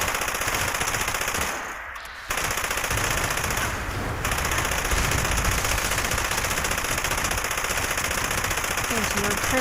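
Sustained automatic fire from a legendary one-gun-army weapon in Fallout 76, a rapid continuous rattle of shots with two brief gaps, heard alongside faint game sounds.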